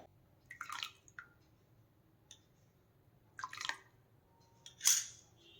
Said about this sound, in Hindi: अब थोड़ा थोड़ा करके विनेगर का पानी हमें दूध में डालना है और दूध को हल्के हाथ से चलाते रहना है।